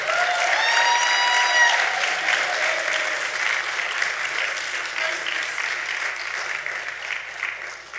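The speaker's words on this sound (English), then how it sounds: "so clap it up for them" Enthusiastic audience clapping at an African fashion show event, loud and dense throughout, with a few cheers and whoops rising over it early, slowly tapering toward the end.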